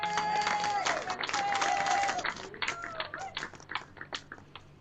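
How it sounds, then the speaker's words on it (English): Applause and crowd noise burst out at an outdoor lawn bowls match, Guernsey against Western Isles in the Island Games open pairs, loud and sustained at first and then thinning into scattered claps, with whistle-like tones and voices mixed in. "And the crowd went wild"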